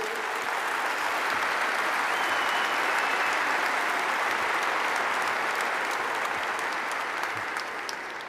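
An audience at the Madrid Economic Forum applauds during a talk on housing and politicians, a dense, steady wash of clapping that holds at even loudness for several seconds without speech.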